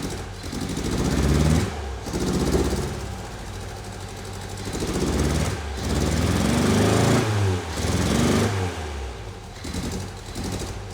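A 1964 Triumph TR4 engine runs rough and uneven, not firing on all four cylinders, its throttle blipped in repeated surges that swell and fall, loud and close throughout with no talk.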